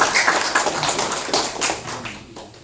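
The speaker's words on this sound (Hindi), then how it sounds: "उनके लिए जोरदार ताली होनी चाहिए।" An audience applauding at a film trailer launch event, with a burst of close clapping that gradually thins out.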